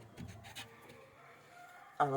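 Native country chickens are let out of their coop in the morning, giving scattered clucks and low calls. A louder, drawn-out crow-like call rises near the end.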